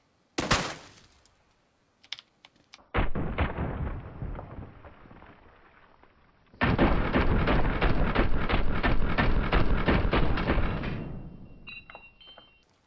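Gunfire in PlayerUnknown's Battlegrounds: a sharp shot, a few scattered clicks, then two long sustained bursts of rapid automatic fire, the second louder, ending abruptly.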